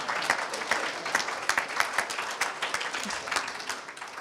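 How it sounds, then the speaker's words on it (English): An audience at a Liberal Judaism biennial gathering claps together, a short burst of steady, fairly loud applause that holds for a few seconds. "So give yourself a round of applause."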